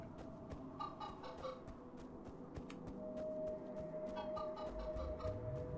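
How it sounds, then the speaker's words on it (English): Robot chickens in Minecraft Story Mode cluck through a steady electronic hum, with bright clicky ticks scattered across the scene and a sustained tone joining partway through. "Oh, das sind irgendwelche Robot Chicken oder was?"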